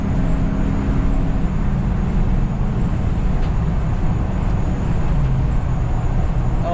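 A 2013 Ford F350 utility truck drives at speed, a loud constant low engine drone and road roar heard from inside the cab, with a faint steady whine above.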